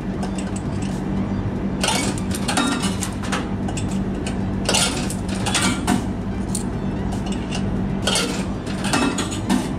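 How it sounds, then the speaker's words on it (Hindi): Coins dropping into a vending machine in a Dubai hotel, a string of clattering metallic rattles and mechanical clicks in several bursts, fairly close, with no talk. "पहले क्या करना होता, आपको कॉइन डालना है"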